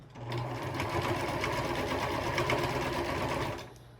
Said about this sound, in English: come over to my sewing machine